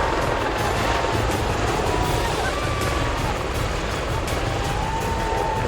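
A Bell Boeing V-22 Osprey tiltrotor military aircraft gives off a loud, continuous, roaring rotor and engine drone that stays steady throughout with no pauses.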